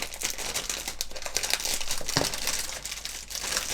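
Plastic bags holding parts of a 1/48 scale model aircraft kit being torn open by hand, a close run of crinkling and crackling with sharper rips, no speech.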